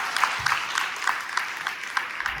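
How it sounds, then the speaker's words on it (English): Applause from an audience at an Indigenous foods symposium, brief and moderately loud, with quick, fairly even claps over a couple of seconds. "So we give them a round of applause."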